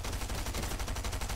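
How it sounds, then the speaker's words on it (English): Rapid automatic fire from an SMG in a video game, a steady dense stream of shots repeating throughout at close range and high volume, with no voices over it. "This is overpowered SMG."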